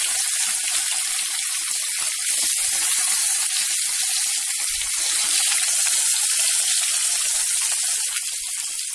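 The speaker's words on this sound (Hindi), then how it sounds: "अब तेल गर्म हो गया है, मछली फ्राई करने के लिए डाल देते हैं।" Fish frying in hot oil for fish biryani sends up a loud, dense hiss and crackle that holds steady, close and unbroken from start to finish.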